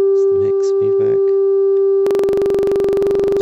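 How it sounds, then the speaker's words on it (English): Steady synthesizer sine tone run through a reverb effect with mix feedback turned fully up, a constant pitched hum under brief talk that gives way to a denser, buzzing reverberant wash. "a sine wave isn't always the best to hear reverb."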